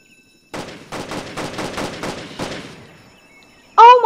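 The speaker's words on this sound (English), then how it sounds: "And he's shooting me." Rapid burst of gunfire in the Roblox Jailbreak video game, about eight loud, evenly spaced shots over a couple of seconds, followed by a sharp electronic effect at the end.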